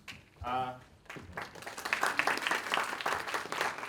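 Audience at a talk gives a scatter of clapping that starts after a brief voice and builds into a loose, moderately close round of applause lasting a few seconds.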